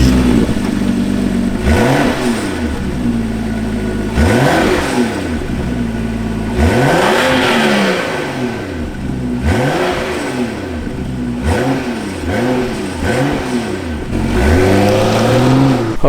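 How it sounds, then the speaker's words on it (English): A 2015 BMW X5 with dual exhaust revs repeatedly, loud nearby engine blips rising and falling in rhythmic bursts over a steady idle. "Do have your dual exhaust here, which we will listen to. It's not going to be a cold start,"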